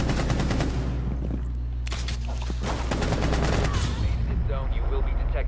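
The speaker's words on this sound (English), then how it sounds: "Where are they shooting me from?" Rapid, loud gunfire in Rainbow Six Siege fills the scene with dense overlapping automatic bursts and shots throughout, while a player talks under the barrage.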